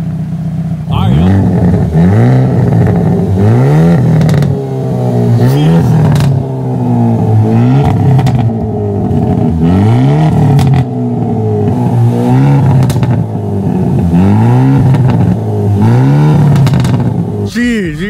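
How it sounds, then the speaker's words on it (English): Exhaust of a 2023 Hyundai Elantra N revved repeatedly, very loud and close, engine note sweeping up and falling back in a series of rising blips with crackles between, while someone speaks over it. "So you can see the exhaust got much louder."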